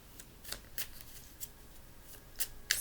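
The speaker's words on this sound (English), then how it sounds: "I'm going to select a few additional cards" Tarot cards handled and drawn during a reading, giving a few short, quiet papery flicks and slides spaced irregularly, close by with no talk.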